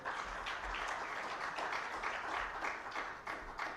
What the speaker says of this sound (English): Let us give a round of applause to all our partners